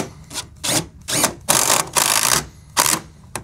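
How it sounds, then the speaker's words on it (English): A power driver sinks 2.5-inch screws into the side framing of a wooden deck, heard as a series of short, close whirring bursts of varying length with brief pauses between them and no talk. "Now it's time to put in the longer screws."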